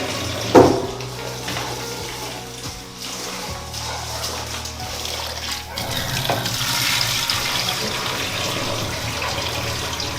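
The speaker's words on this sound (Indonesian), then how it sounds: "Jadi 2-3 kali kita harus bilas berasnya ya biar bersih." Rice being rinsed in water for a traditional Entil dish, with running, splashing water and a sharper slosh near the start, steady and close, no talking.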